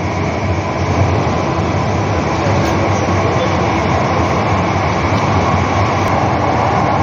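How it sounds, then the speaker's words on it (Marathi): A Mumbai Metro Aqua Line 3 train runs underground, giving a loud, steady, continuous rumble and roar from the tunnel throughout, heard from inside the car. "आता गाडी चालू झालेली आहे।"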